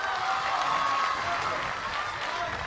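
Steady, dense applause from a crowd at a professional women's squash match, sustained and fairly loud throughout with a mix of cheering voices.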